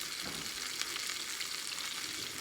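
Chicken pieces fry in a pan with a steady, soft crackling sizzle, continuous and close without pauses.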